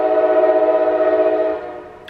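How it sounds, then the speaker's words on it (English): A passing train sounds a loud, steady horn with layered tones that holds for about a second and a half and then fades as the train moves on. No one speaks. "oh, there's a train passing through."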